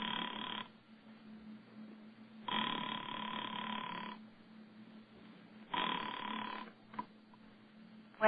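A telephone time-service line sounds a repeating tone in bursts, each lasting over a second with gaps between, thin and filtered like a phone line, with no voices over it.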